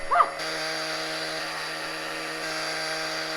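A steady high-pitched whine of a fine-grit sanding wheel on a power tool, polishing a 2J valve cover, runs continuously at close range after a brief bump at the start.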